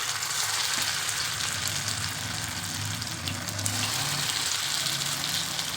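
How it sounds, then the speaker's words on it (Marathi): Grated fasting-style bhaji fritters dropped into hot oil and frying: a steady, loud bright sizzle holding evenly throughout with a soft low hum beneath, no talking. "तर आता तेल छान तापलेलं आहे, तेल ठेवलं होतं. तर आता आपल्याला हे भजी सोडायचे त्यामध्ये."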